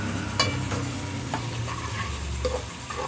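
Onions sizzling in oil in a pan for a black chickpea curry, a steady moderate frying hiss with occasional soft stirring scrapes and clicks, close and without voices.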